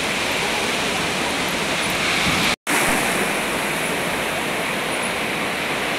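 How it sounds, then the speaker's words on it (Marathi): Sea waves washing onto a Konkan beach in the morning make a loud, continuous rushing surf that fills the whole clip, broken only by one very short dropout. "समुद्राचा या पाण्याचा सकाळी सकाळी असा आवाज येत होता, खळ खळ खळ"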